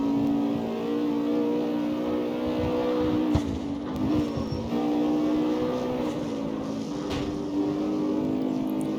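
A steady car engine drones at an even pitch while cruising in the street-racing game CarX Street, close and continuous with light shifts in tone and no talk.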